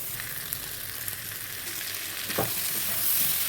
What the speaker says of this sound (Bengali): আলু আর ফুলকপি মশলার সাথে খুব ভালোভাবে এটা মিশিয়ে নিতে হবে